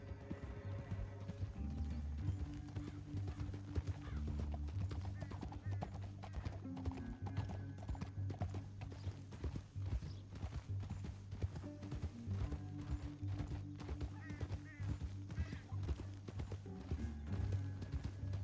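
Steady clip-clopping of horse hooves in a video game runs throughout under a low rumbling backdrop, with occasional faint voices mixed in.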